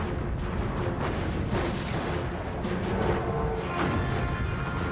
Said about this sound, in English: Now, on May 24, 1941, Hood and Bismarck open fire.